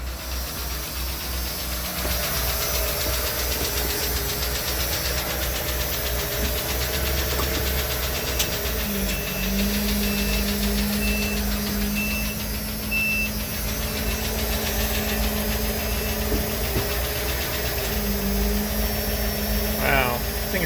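A Ford Econoline van engine with a repaired EEC ignition system runs in gear, a steady close low idle rumble with faint knocking and hiss, continuous and even throughout with occasional talk.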